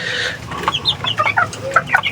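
Chickens cluck in short, close, repeated bursts, with a few sharper calls mixed in. There is no talking.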